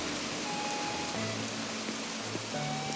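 Steady rainfall in the video game Animal Crossing: New Horizons, an even hiss of drops on the ground that stays constant throughout, with soft game music tones faintly underneath and no talking.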